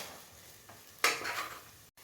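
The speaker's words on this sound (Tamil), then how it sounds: "சேர்த்து நல்லா எண்ணெய் பெரிய அளவுக்கு வதக்குவோம்" Curry base with salt being sautéed in oil for a red soya bean curry, with a sharp burst of sizzling and stirring that swells then fades, followed by a brief scrape, no talk.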